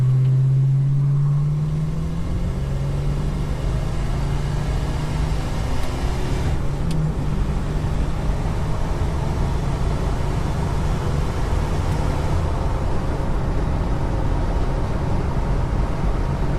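A Holden HK Premier wagon pulls away and accelerates, its engine rising in pitch at first, then settling into a steady, loud, close interior drone with road rumble, no talking.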